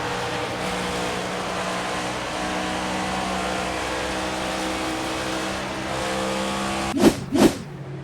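Race cars at the green flag at Homestead-Miami in a Midwest Motorsports Cup Series race, a steady engine drone holding throughout before two sharp, close passes sweep by near the end.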